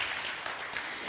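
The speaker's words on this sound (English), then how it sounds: "And a round of applause again." A short burst of dense, even applause from a symposium audience greeting a speaker, heard close and alone.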